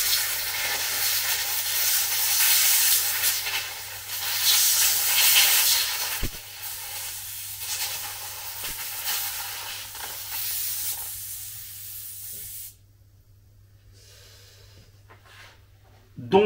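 An air compressor left running emits a steady broadband hiss, loud and continuous for about twelve seconds under a faint low hum, then drops away abruptly to near quiet.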